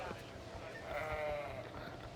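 A Dall sheep in the Planet Zoo video game gives a short wavering bleat over soft game ambience.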